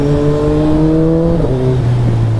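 A Jawa Bobber motorcycle rides along a road, its engine humming loud and close with a steady tone that dips in pitch partway through, as if shifting or easing off.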